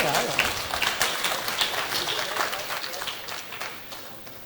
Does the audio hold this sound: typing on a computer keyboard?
no